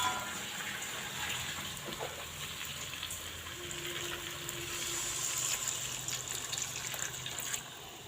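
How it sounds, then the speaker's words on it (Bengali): Water is poured into a pot of cooking lentil and vegetable curry, giving a soft, continuous splashing gush over a faint sizzle for several seconds. "কিছুটা জল ঢেলে দেবো।"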